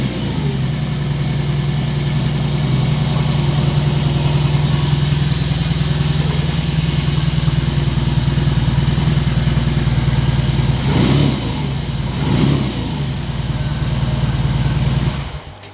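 A 2022 BMW R18 Classic motorcycle idles close by with a steady, deep, even rumble, with a couple of brief swells near the end before it cuts off.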